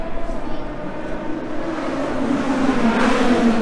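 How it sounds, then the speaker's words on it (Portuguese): A turbocharged IndyCar race car engine drones steadily at St. Petersburg, Florida, its pitch rising and swelling louder toward the end, with a muffled, fairly subdued tone rather than a shrill whine. "A Fórmula Indy ela é turbo, então não faz muito barulho."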